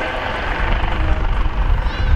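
Coast Guard Dolphin helicopter flying at an air show, a steady broad rotor and engine roar with low thumping, heard with an announcer talking over it.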